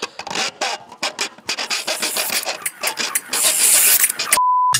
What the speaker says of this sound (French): on va prendre la scie à métaux et une nouvelle lame